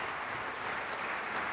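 Concert audience at the Slovenian Philharmonic applauding after the RTV Slovenia Symphony Orchestra, a dense, steady wash of clapping, sustained and even for the short stretch.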